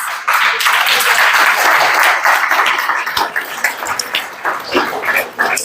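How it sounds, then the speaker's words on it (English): Loud, dense audience applause for models on a fashion runway, sustained and full for several seconds before tapering off a little toward the end. "Our models on the runway, once again, please give them a big round of applause"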